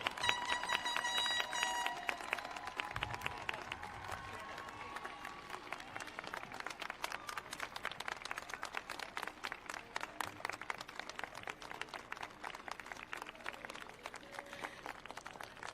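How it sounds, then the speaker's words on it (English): An audience applauds graduates of the class of 2021 at a high school graduation ceremony, a steady, dense clapping from a large crowd that persists throughout, with some brief tones and room noise early on. "Please give a round of applause for all of our graduates of the class of"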